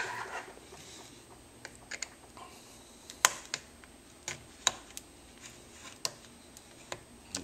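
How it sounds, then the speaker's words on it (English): A razor blade lightly scores the plastic casing of a laptop battery pack, producing sparse, irregular, faint clicks and small scraping ticks in a quiet room. "I'm just going to cut lightly and continue to cut lightly until I can break it free"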